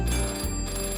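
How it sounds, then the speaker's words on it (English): A telephone rings in a small village in an animated children's programme, a brief steady electronic trill with layered tones, clear and alone. "The phones were ringing again, all over Greendale."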